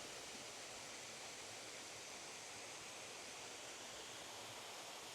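A steady, rushing roar of the Cascade de Marilou waterfall in the Cantal, France, constant and broadband, with no voices.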